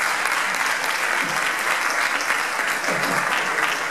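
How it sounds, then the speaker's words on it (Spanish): A crowd at a trail-race favourites presentation claps for a runner, loud continuous applause close by with a few muffled voices mixed into the steady clatter. "por favor, un aplauso."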